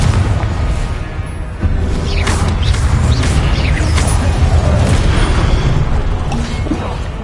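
Confringo spell blasts in Hogwarts Legacy, loud continuous booming explosions and rumbling debris with swooshing magical streaks, dense and close throughout, slightly quieter at the very start.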